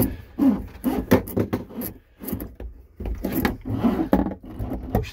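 A shower head is pushed back into its holder inside a 2011 Autocruise Accent motorhome, giving close plastic knocks, scrapes and rubbing clatter in irregular bursts with a short pause midway.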